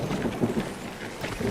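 Stormy weather in the video game Mind over Magic: a steady wash of rain with low rumbling thunder running through, moderately loud and continuous, with no talk over it.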